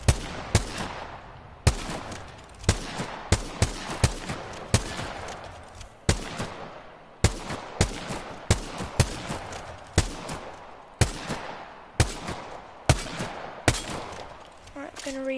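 Rapid gunfire from Apex Legends shooting practice, loud sharp shots in bursts and single cracks with short gaps, repeating steadily for about fifteen seconds.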